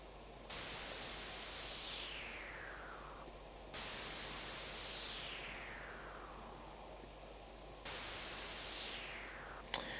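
Synthesized white noise with a resonant filter sweeping downward, repeated in three long hissing swells that each fall from bright to dull, steady and alone against a faint low hum.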